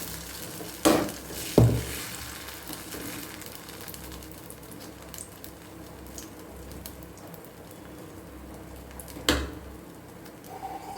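Moong dal dosa sizzling in sesame oil in a pan, a soft steady frying hiss with a few louder clatters of the pan or utensil near the start and once more toward the end.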